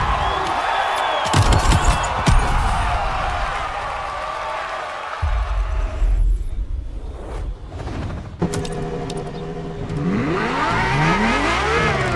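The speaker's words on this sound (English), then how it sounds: "the fastest and most exhilarating road car ever made by the prancing horse, LaFerrari" A Ferrari LaFerrari in the racing game The Crew Motorfest, its engine revving and rising in pitch in loud bursts, broken by sharp cuts and shifting noise.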